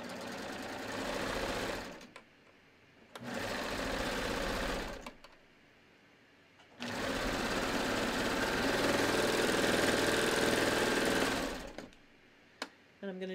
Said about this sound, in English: I'm going to sew the seam.